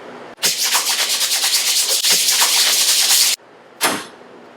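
A screen-printing screen is scrubbed with emulsion remover and a scrub brush, giving loud, close, rapid back-and-forth bristle strokes in two long runs, then one short final swipe.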